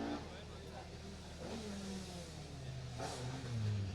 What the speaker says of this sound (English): That's car 5, Simon Major, and there's Mark II Escort.